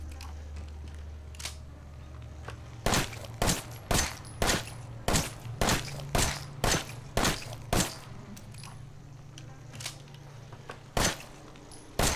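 A series of sharp gunshots from a weapon in the video game Resident Evil Biohazard, about a dozen loud cracks in a quick irregular burst over a low steady hum, then two more shots spaced apart.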